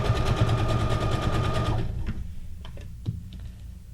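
A sewing machine runs stitching fabric scraps with black thread, a fast, loud, steady mechanical whir for nearly two seconds, then stops, followed by a few scattered clicks and taps of handling the fabric.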